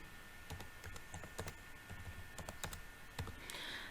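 A password is typed on a computer keyboard in a quick, uneven burst of close, crisp key clicks, roughly a dozen strokes with brief pauses between them.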